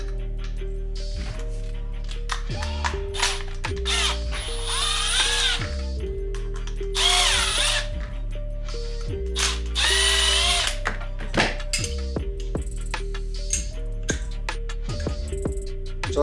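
Power tool loosening bolts on a lower swivel coolant housing, heard as repeated whirring bursts that stop and start in a steady rhythm, close and loud, with no talk.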